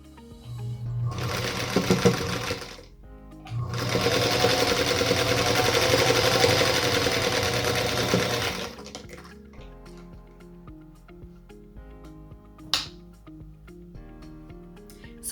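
A sewing machine chain-pieces quilt block units for a Union Star block, running in two loud sustained bursts separated by a short pause, then falling to quieter handling and a few faint clicks.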